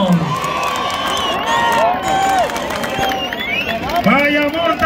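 A rodeo crowd at a bull riding event cheers and claps for a rider while an announcer talks loudly over a noisy, busy wash of shouts and whistles.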